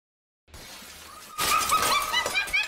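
Glass smashes loudly as an enraged woman breaks it, a sharp shatter followed by scattered tinkling shards, preceded by a quieter rumble.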